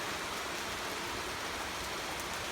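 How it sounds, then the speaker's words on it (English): Rain falls steadily around hikers sheltering under a rock on Spruce Knob, West Virginia, making an even, unbroken hiss with no voices. "So we finished hiking and we're hanging out under a rock right now. Still raining."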